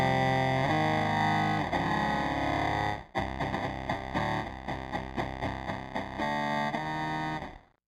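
An electric guitar plays through a Boss SY-1 synthesizer pedal, producing a dense, distorted synth-like tone with a held chord, then a run of rhythmic stabbed notes before it cuts off.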